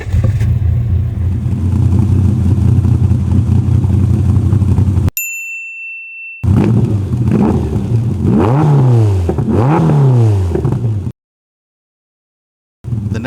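A TVR sports car with a custom exhaust revs hard at the tailpipe, its engine note rising and falling in repeated sweeping blips, loud and close, with a brief electronic beep and a stretch of silence between the runs.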